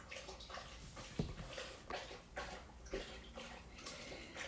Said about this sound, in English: my dog is drinking some water